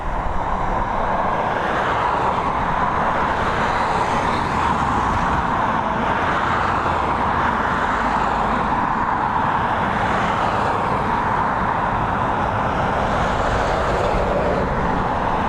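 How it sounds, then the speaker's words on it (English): A Boeing 737 MAX, about two years old, approaches to land at Dublin Airport after a flight from Lanzarote and is buffeted by wind, giving a steady broadband jet roar that holds at even loudness throughout without talk. "we've got a Boeing 737 MAX is coming in after a 3-hour and 30-minute flight from Lanzarote"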